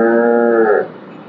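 A single dairy cow gives one loud, close moo that fades out after under a second, leaving quiet background.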